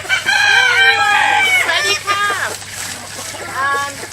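Backyard hens and a rooster sound off up close, with a bright crow sweeping up and down followed by shorter clucking calls, loud and clear with no talk.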